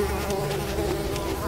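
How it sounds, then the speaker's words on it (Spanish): Mosquitoes whine in the video game Unravel, a continuous thin buzzing drone that stays close and steady throughout, with no talk. "hay zancudos, men, mosquitos"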